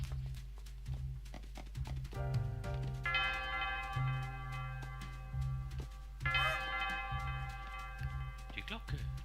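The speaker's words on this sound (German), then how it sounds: "Die Glocke." In the video game Princess Peach Showtime, bright bell chimes ring out twice, a few seconds apart, over bouncy game music with a steady beat.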